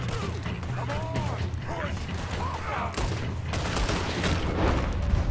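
Gunfire crackles in the open-world western video game Red Dead Redemption 2, several sharp shots and booms over a busy, noisy game backdrop.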